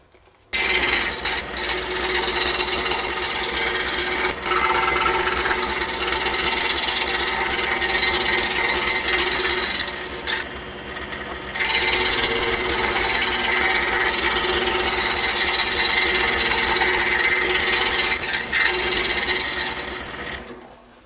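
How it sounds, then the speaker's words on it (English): A scroll saw with a number 3 reverse tooth blade buzzes steadily as it cuts thick wood pieces, a continuous rasping whir that pauses briefly midway, then resumes until near the end. "we'll take it over to the scroll saw and cut around the perimeter of each one of these pieces"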